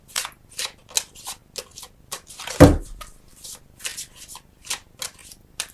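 Oracle cards from a Flower Therapy deck are shuffled by hand in a steady run of crisp riffling bursts, close and clear, with one heavier knock partway through.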